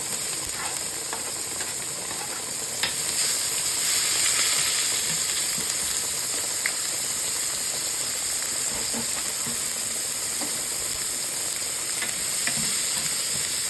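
Half an onion fries in a pan. It gives a steady, close sizzle and hiss for the whole stretch, broken by light stirring scrapes and clicks, with no talk.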